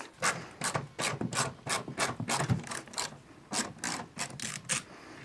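Jack lowering a Honda CB650F motorcycle: a steady series of rhythmic ratcheting, rasping clicks, close and moderately loud, repeating at a quick, even pace with no talking.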